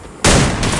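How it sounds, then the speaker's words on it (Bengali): Gunfire from a short-range gun in the mobile battle game Free Fire: a sudden loud burst of rapid shots after a brief quiet moment, with a second burst close behind. "শর্ট রেঞ্জের বন্দুক দিয়ে মারছে।"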